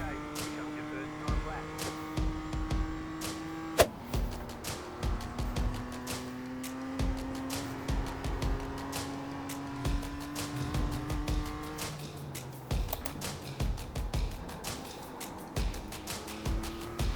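The race car engine in the sim racing game iRacing drones with a rising and falling whine through the first lap, fairly quiet, over a steady hum and frequent sharp clicks.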